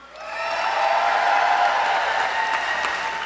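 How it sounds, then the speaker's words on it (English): Sustained applause from a political rally crowd in Melbourne, Florida, a dense, steady roar of clapping that swells in over the first half second and holds loud throughout, with faint scattered cheers mixed in. "Give him a big round of applause."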